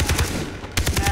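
Big gun firing in Far Cry 3, a rapid automatic burst of loud close shots with a short pause and then another burst.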